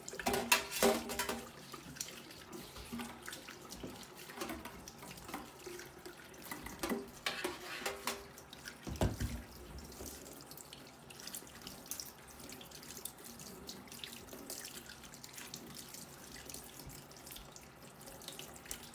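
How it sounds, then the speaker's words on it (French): A lemon is washed under a running kitchen tap, with a steady stream of water splashing into the sink and occasional knocks and clatters of handling, heard close and alone without talk. "I'm going to wash my lemon."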